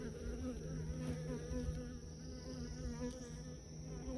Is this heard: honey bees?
yes